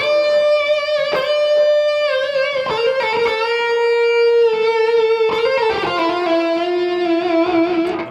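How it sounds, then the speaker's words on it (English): Distorted electric guitar playing a melodic lick with wide, sustained string bends and heavy vibrato, loud and continuous with no talking. "with a lot of vibrato and holding that bend"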